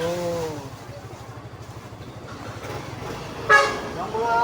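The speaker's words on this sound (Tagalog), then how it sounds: "Ilalabas ko itong motor na ito." A motorcycle being wheeled out gives a short, sharp horn toot near the end, over a low engine idle, with people talking nearby.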